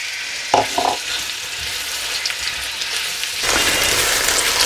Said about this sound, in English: add the onions in and fry them for around 8 to 10 minutes until they're nice and golden brown in colour